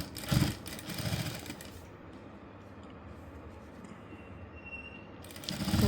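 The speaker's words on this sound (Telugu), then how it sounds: "ఇప్పుడు స్టిచ్చింగ్ ఏ విధంగా చేయాలో చూపిస్తున్నాను చూడండి" An electric sewing machine stitches piping onto a blouse piece, a close mechanical rattle in short bursts at the start and end, with a quieter steady whir in between.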